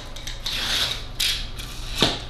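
Utility knife blade lightly grazing and scoring the paper face of a drywall board, a few soft close scraping strokes with short rasping bursts and a brief sharper scratch near the end.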